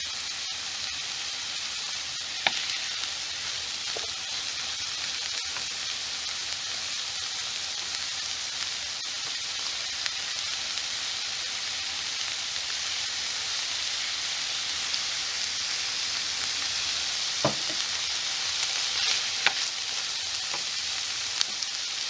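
Peppers and celery fry in a pan with a steady, dense sizzle, broken by a few faint clicks and scrapes as they are stirred continuously.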